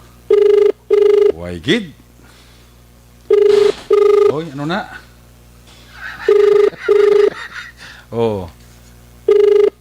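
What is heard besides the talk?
cellphone ringing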